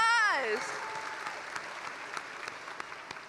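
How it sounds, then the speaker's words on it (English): Graduates of Renton Technical College's Class of 2025 break into sustained applause at their commencement ceremony, a dense, steady patter of many hands filling the hall right after a brief voice cuts off. "Let's give ourselves a big round of applause."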